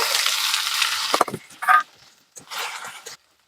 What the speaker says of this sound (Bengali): তেলের মধ্যে এখন পেঁয়াজ কুচিগুলো দিয়ে দিব